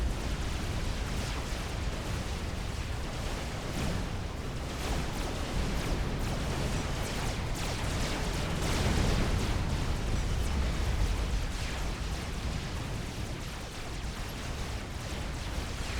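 Dense, continuous rumble of explosions and missile fire from a large Supreme Commander: Forged Alliance 4v4 battle on Bloodthrone, with mobile missile launchers taking down a Cybran shield; steady and loud throughout with no let-up.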